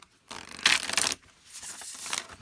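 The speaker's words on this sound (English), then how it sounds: "let me stop shuffling and just sort of lace them out" A Seventh Sphere Tarot de Marseille deck, with pliable waterproof cards, shuffled close up in two bursts of riffling and sliding card noise, the first louder, with no talking.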